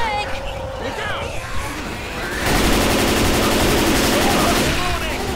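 Rapid automatic gunfire rattles continuously in a Left 4 Dead 2 zombie fight, loud and close, swelling midway into a dense stream of shots with players talking over it.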